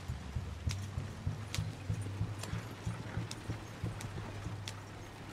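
A horse galloping in the video game Red Dead Redemption 2, a steady rhythmic run of hoofbeats, moderately close and fairly quiet, with no talk over it.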